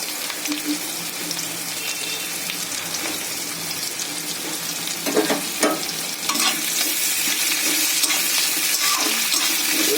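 Chopped garlic, onion and a green chili fry in a wok, a steady broad sizzle heard close up that swells louder partway through, with intermittent scraping and stirring knocks and no talk over it.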